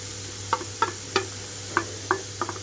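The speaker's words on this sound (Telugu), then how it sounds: "ఉల్లిపాయలంతా చక్కగా లైట్గా గోల్డెన్ కలర్లోకి టర్న్ అయ్యేటప్పుడే నేను కట్ చేసి పెట్టుకున్న బీట్రూట్ మొత్తం కూడా ఇందులోకి వేసేస్తున్నాను" Chopped beetroot frying with golden onions in a pan while a spoon stirs, about seven sharp scraping knocks at irregular intervals over a faint steady sizzle.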